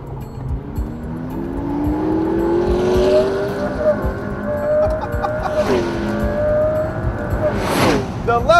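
A 2014 McLaren P1 accelerates hard in race mode, its engine note climbing steadily through the gears, loud and close, with brief shifts and a rising whine near the end.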